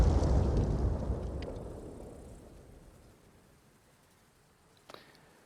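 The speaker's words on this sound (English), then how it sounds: "Let's do some more mortars" A mortar explosion in Arma Reforger, heard as a rumbling blast that decays slowly over several seconds, followed by a faint, brief pop later on.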